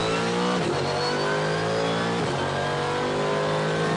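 Mercedes-Benz SLS AMG GT3 race car accelerating hard on a track at around 250 km/h, a loud sustained engine roar climbing through gears with brief shift dips.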